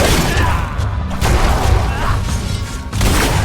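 Gunfire in Fable 3 comes as heavy booming shots with thuds and crashes mixed in, loud and close throughout, while voices talk briefly underneath.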